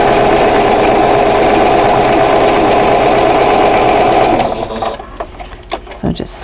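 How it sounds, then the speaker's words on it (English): A sewing machine runs steadily and loudly, stitching on both sides of a line for a vintage quilt block, then stops after about four seconds, leaving a few soft handling clicks and rustles. "we're just going to sew on both sides of this line"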